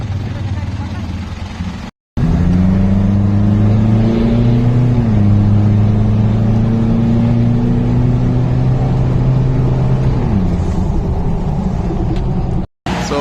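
A Toyota Hilux fitted with a full exhaust and resonator runs nearby, giving a loud steady droning engine note that rises slightly in pitch and holds, with brief cuts at the start and end and talk mixed in.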